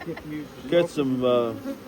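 Honeybees buzz close by at a beekeeping class, with several wavering, rising and falling drones overlapping in short bursts, loud near the microphone.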